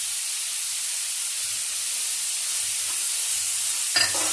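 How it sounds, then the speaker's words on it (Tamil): Onions and curry leaves fry in hot oil in a pan, giving a steady close sizzle and hiss with occasional soft stirring scrapes and a brief louder clatter near the end. "ஆனியன் போட்டு நல்லா ஃப்ரை பண்ணிக்கோங்க."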